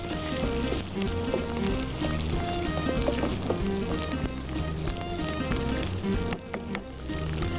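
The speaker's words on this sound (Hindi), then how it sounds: "ओहो भाई, बड़ी छींटे उड़ती है कच्ची प्याज में" Raw onion paste sizzles and spatters hard in hot oil, a dense, loud, steady crackle that carries on with little pause and only a brief dip near the end.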